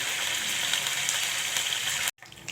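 Tempering spices crackle in hot oil for an eggplant fry, a dense close sizzle holding steady for about two seconds before cutting off abruptly, then resuming faintly; nobody speaks.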